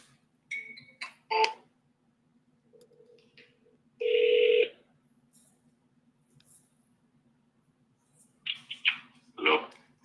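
A single touch-tone telephone dialing beep sounds clearly for under a second, with brief faint voice-like murmurs before and after.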